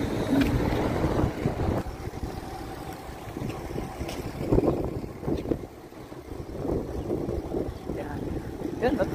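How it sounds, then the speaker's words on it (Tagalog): Strong wind gusting across an outdoor walking route on a cold day, a broad continuous rumble with buffeting surges, with people talking over it. "Malakas ang hangin."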